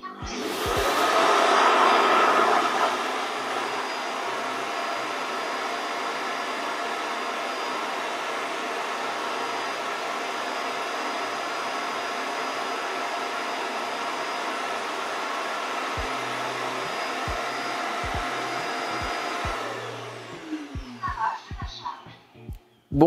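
An EZVIZ RE5 Plus robot vacuum's dock auto-empties its dustbin: a loud, steady suction whoosh held for about twenty seconds, then winding down with some clunks at the end.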